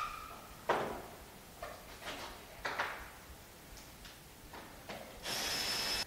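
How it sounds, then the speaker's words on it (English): Screws come out of a packing case under a cross-head screwdriver: scattered quiet clicks, scrapes and knocks spread across a few seconds, ending with a short steady whir. "Please remove the screws around the box by cross screwdrivers."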